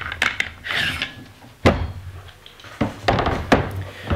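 FN SCAR 16S rifle being disassembled as the charging handle and bolt carrier are removed, a series of close metallic clacks, slides and thunks with brief quiet gaps.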